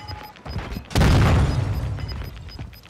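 One heavy grenade blast in a video game erupts loud and close after a moment of quiet, then a long, dense rumble lingers for about two seconds.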